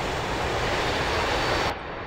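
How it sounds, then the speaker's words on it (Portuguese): Mirage 2000C jet engine in DCS World idling on after shutdown, a steady broadband whooshing roar that holds loud and even before cutting to a quieter, duller hum near the end. "o motor ainda está ocioso"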